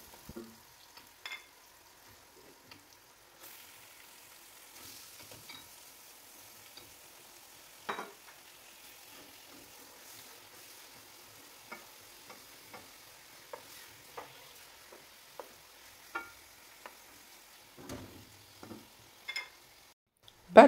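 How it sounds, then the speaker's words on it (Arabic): Chicken pieces and chopped onion fry in hot oil with a faint, sparse crackle and occasional sharp pops, quiet and steady throughout. "ثم راح نضيف ليه قطع الدجاج، وراح نخليهم يتقلوا شوية مع البصل"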